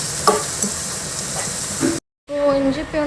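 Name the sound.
sautéing curry leaves and green chillies in a pan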